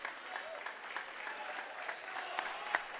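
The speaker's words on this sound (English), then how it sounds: "Crowd's getting into it now" A basketball game crowd cheers and claps in a gym, faint and distant, a steady wash of noise with a few sharper shouts.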